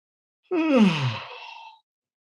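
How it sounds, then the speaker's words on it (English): A single long human yawn, starting abruptly and sliding down in pitch before trailing off into a breathy sigh, close and alone with no talk. "So if I yawn now"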